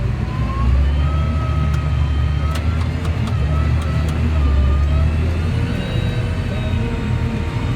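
Tractor engine labouring up a steep hill in a corn field in first gear, a loud steady low drone with a high whine running throughout, close and continuous with no talk.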